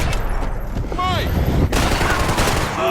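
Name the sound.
gunfire in Max Payne 3 video game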